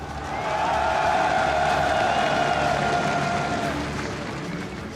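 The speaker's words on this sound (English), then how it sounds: "Des applaudissements également pour le coach de l'équipe War Horse." A hall crowd applauds for a team's coach at a 2018 MSI esports match, Flash Wolves vs KING-ZONE. The applause is a steady, moderately loud wash blended with a sustained tonal background.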